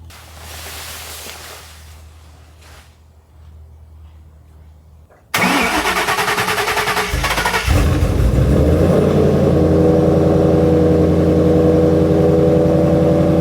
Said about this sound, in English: So I've been letting the Shelby idle for a little bit now